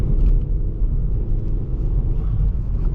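Rear-wheel-drive car accelerating on a late-night drive, a steady, loud low engine rumble and road roar heard from inside the cabin with no talk.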